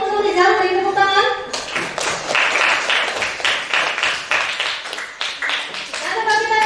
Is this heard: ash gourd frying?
no